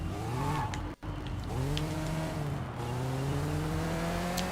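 Car driving in the video game Sleeping Dogs, a steady engine drone rising in pitch through repeated gear climbs, with a brief cut near one second, then sustained revving; no talk.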